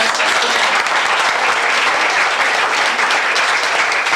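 A room full of guests at a 40th birthday party breaks into dense, sustained applause, loud and close, clapping steadily throughout without a break.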